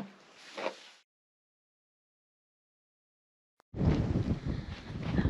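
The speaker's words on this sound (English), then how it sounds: "The wind is kicking up crazy" Strong gusting wind outdoors at Rockhound State Park near Deming, New Mexico, blasting the microphone in a short roar, dropping to silence, then surging back loud and rumbling.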